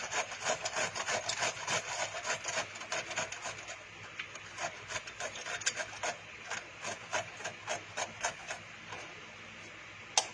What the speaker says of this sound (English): You simply just rub it across your grater.